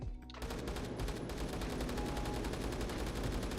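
Sustained automatic RPK gunfire in the Phantom Forces shooter game, a loud, dense, rapid stream of shots running almost the whole time after a brief quieter start.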